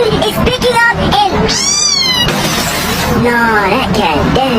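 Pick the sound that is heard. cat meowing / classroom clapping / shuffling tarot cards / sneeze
cat meowing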